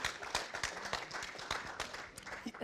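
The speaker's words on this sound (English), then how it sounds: "That deserves an applause" Small audience at a SXSW interview in Austin gives scattered, sharp handclaps, quiet and close, rising in a brief ragged burst and fading within a few seconds.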